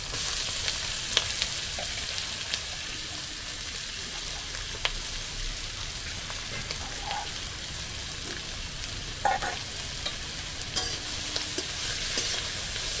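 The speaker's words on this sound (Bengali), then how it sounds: "তেলের মধ্যে আমি দিয়ে দেবো ক্যাপসিকামের কুচুরি একটু হালকা করে ভেজে নেব সাথে গাজরটাও দিয়ে দেব" Chopped capsicum and carrot stir-frying in oil in a pan, a steady soft sizzle with occasional light clicks and scrapes of stirring throughout.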